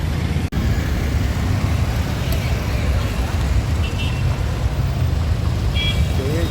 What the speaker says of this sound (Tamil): ஃபுல்லாக டிராஃபிக் இருக்குது.